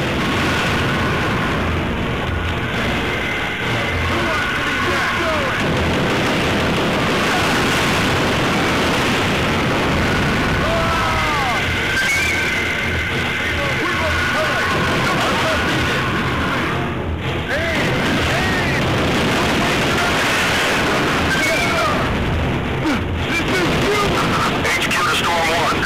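In a video game, a Cascade rocket launcher and machine gun fire continuously, with dense rattling shots, booms and explosions layered together at loud, sustained intensity while a person talks over the action.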